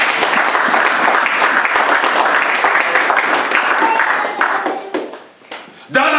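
A church congregation loudly applauding and cheering in praise of the Lord, a dense sustained wall of clapping that thins out and drops near the end before a final burst.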